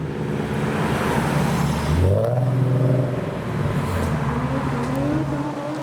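A JDM Chaser revs hard and rises in pitch as it pulls away leaving a car show, loud and nearby, then fades into the distance against background road noise.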